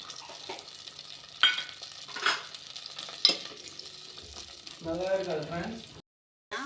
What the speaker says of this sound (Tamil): அது கூடவே ஒரு 10-20 பல்லு பூண்டு அதையும் போட்டுக்கலாம்.